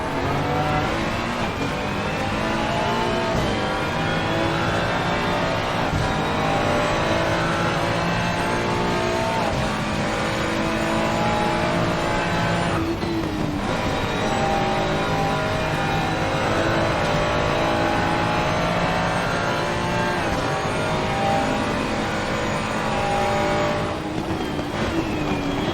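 GT3 race cars roaring around a wet Spa circuit in a racing video game, with loud sustained engine drone and rising and falling revs held for the whole stretch, and no voices over it.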